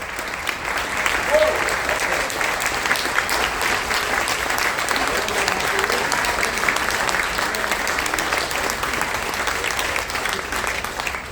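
Sustained, dense applause from a large audience honoring military families at a shipboard appreciation event on the Carnival Dream cruise ship, steady and full for about eleven seconds with a few voices mixed in.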